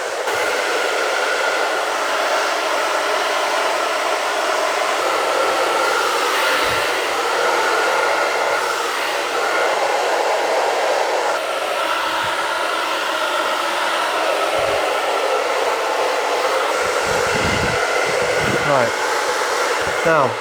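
Hair dryer blowing on a man's long top hair during a wavy taper fade cut, giving a steady loud close whoosh for about twenty seconds with a few faint knocks beneath it.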